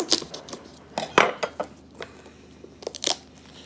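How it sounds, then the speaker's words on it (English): A steamed spaghetti squash cracking open in a kitchen, heard as a series of sharp, close cracks and crunches at irregular intervals, the loudest near the middle, with no talk. "You just crack it open. There it is. You can hear it cracking."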